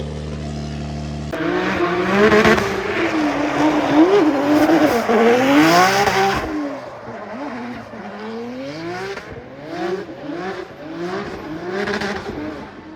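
A Formula Drift car engine revs and wails through rising and falling pitch as tires squeal loudly during drifting, with bursts of acceleration close by.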